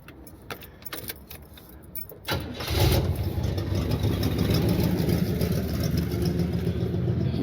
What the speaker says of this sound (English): It's a clapped out 305 motor in here right now